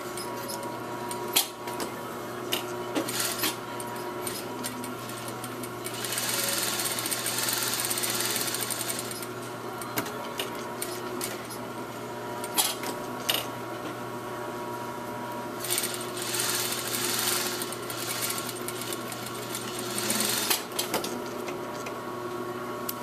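A sewing machine stitches a back welt pocket, its motor whirring in several bursts of steady running separated by brief pauses, close and fairly loud.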